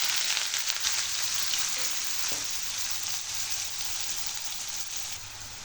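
Finely chopped onion drops into hot oil with whole spices, for an egg masala, giving a continuous hiss of frying and a few stirring clicks, close and without talk.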